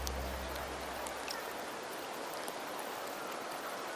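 Rain falls on the town of Septimont in Wuthering Waves as a soft, steady hiss with scattered tiny drips. A low hum fades out in the first second, and the sound stays quiet and even, with no voices.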